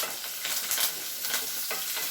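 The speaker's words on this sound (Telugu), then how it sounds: "పచ్చిమిర్చి ఉల్లిపాయ ముక్కలు వేసుకొని వేయించుకుందాం" Green chillies and onion pieces fry in a hot tempering with curry leaves for a brinjal, tomato and chana dal curry. A brief, steady sizzle carries a few soft stirring scrapes, with no voices.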